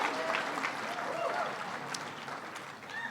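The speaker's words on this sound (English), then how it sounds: "Give Tim Kaine a big round of applause." A crowd applauds Tim Kaine at a political gathering with the president, sustained clapping across a large room, fairly distant and even, with faint voices and a few cheers mixed in beneath the clapping.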